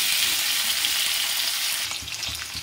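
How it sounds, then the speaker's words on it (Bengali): Potatoes fry lightly in a pan, giving a steady bright sizzle that eases slightly near the end as a few soft stirring scrapes come through. "এইভাবে মোটামুটি হালকা ভেজে দেবো আলুগুলো"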